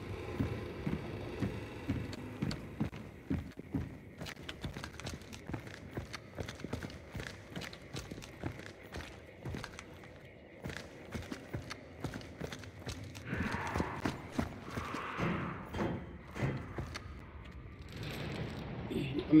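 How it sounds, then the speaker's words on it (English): Repeated hoof clip-clops from a horse being killed in the game Hunt: Showdown, with a whinny near the end and faint talking mixed in. "Just killing a horse."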